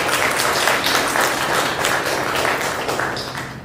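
Audience at a memorial service applauding, a dense continuous patter of many hands clapping that holds steady and then fades slightly toward the end.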